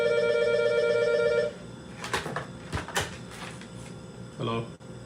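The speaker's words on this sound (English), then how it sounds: "Why this phone ringing?" A telephone bell rings steadily at the start in a home hallway, then stops abruptly, followed by knocks and clatter like handling the receiver, with a short thud near the end.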